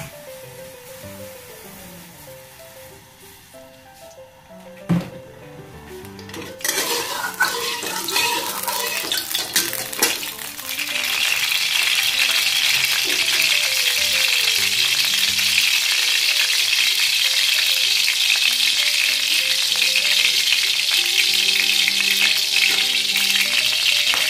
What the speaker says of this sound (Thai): เราตั้งกระทะให้ร้อนนะคะเสร็จแล้วเราใส่น้ำมันเลยค่ะ